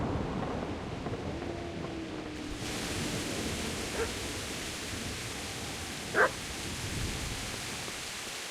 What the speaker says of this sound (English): I also keep hearing a dog barking.